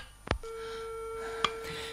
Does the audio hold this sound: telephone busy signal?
yes